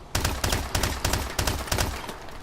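MP443 Grach pistol with a red dot sight firing in Call of Duty Advanced Warfare, about seven evenly spaced loud shots, each with a short echoing tail, and no voices.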